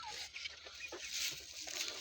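Chickens clucking inside a backyard coop shared with a duck, soft intermittent clucks and squawks at a distance under faint background noise.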